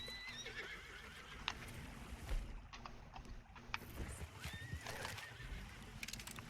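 In the Red Dead Redemption 2 video game, a horse whinnies and snorts while hooves clop intermittently, with a faint watery background, all quiet and unaccompanied by voices.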